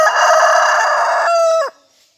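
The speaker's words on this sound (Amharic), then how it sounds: "መንደር ጥግ ስለሆነ ዶሮም እየጮኸ ነው።" A rooster crows loud and close at the edge of a village, one long sustained call that cuts off abruptly near the end, followed by silence.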